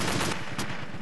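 Dense automatic gunfire in Arma 2, a rapid burst of shots running together as a continuous rattle, loud and close with no voices.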